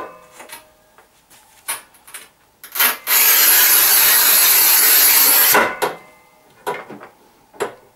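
A Rubi manual tile cutter scores glazed tile in one loud, continuous scrape lasting about three seconds, with quieter clicks and handling knocks before and after.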